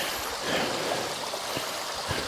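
Creek water flowing through spring woods, a steady rushing wash with occasional low splashes and gurgles, close by and continuous.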